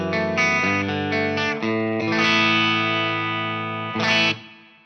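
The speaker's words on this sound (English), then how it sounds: "the sound of the guitar going straight into the clean channel of the amplifier, but I'm still using the spring reverb and delay blocks" Electric guitar on the clean channel of an amplifier through a Line 6 HX Effects unit with spring reverb and delay, playing a loud sequence of sustained chords and notes that ring out with lingering echo.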